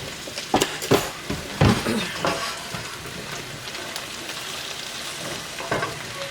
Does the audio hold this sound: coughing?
no